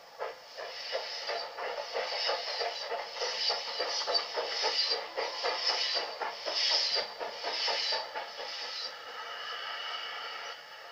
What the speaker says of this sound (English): A Dundee train leaves behind the Standard 5.